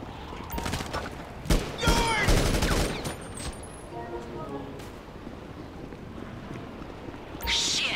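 Rapid burst of gunfire emptying a whole magazine in GTA Online, loud and close, followed by quieter ambient game sounds and a few faint later shots.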